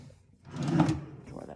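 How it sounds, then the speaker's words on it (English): A hotel room drawer slides open in an Atlantic City casino-resort room with a rumbling wooden scrape, close and moderately loud, with a person speaking around it. "Another drawer with a"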